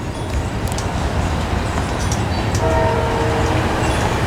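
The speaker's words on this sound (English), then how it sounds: "see that train going over the bridge?" A train rumbles steadily across a bridge, a dense low roar with faint metallic squeals and a brief horn-like tone near the end, with no voices.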